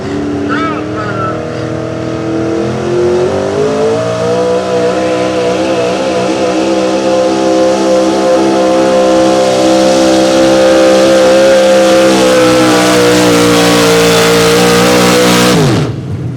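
A pulling truck's engine at a truck and tractor pull revs hard and climbs in a loud, sustained roar up close, pitch rising steadily for about fifteen seconds before cutting off abruptly.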